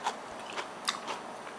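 Pickled ginger, sugar-free Japanese-style, crunched close to the mouth: a few soft crisp bites in quick succession, faint and intimate, with no speech.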